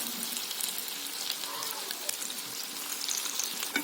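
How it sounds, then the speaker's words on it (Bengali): Pea kofta balls fry in hot oil in a wok, giving an even, continuous sizzle up close with scattered small pops throughout. "কোপ্তাটা ভালো করে ভেজে নেব"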